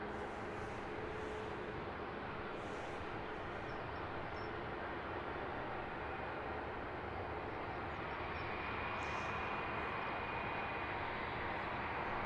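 EasyJet airliner inbound from Amsterdam on approach to Luton Airport, a steady broad jet roar held at even loudness throughout, still some way out with no one talking.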